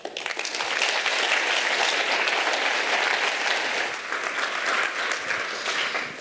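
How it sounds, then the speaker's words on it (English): Audience applause after a presentation on building a learning culture, a full, even roar of many hands that swells in quickly and then holds steady before tapering slightly. "Round of applause."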